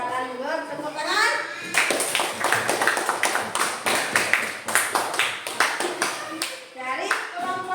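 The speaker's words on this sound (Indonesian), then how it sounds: "Silakan dulu tepuk tangan." A classroom group of children bursts into sustained, dense hand clapping after a brief spoken voice, the close, busy applause continuing steadily to the end.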